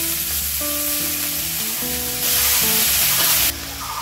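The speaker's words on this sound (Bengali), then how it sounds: "আমি দিয়ে দিচ্ছি লঙ্কা বাটা" Green chili paste hits hot oil and bursts into a loud, close sizzle that swells to a harsh hiss before easing, with faint stirring in the background.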